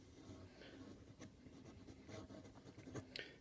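A Sailor Professional Gear fountain pen with a hard fine nib scratches across paper in short, quiet strokes, close and faint, with a few sharper ticks as the nib moves.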